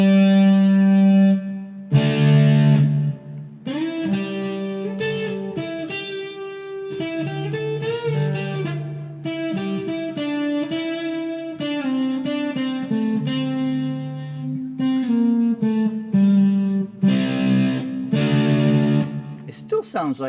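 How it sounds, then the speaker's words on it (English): Electric guitar played through a Frenzy fuzz pedal bought from AliExpress, giving a saturated distorted tone as a riff of chords and single notes runs steadily for about twenty seconds. "it still sounds like a distortion pedal"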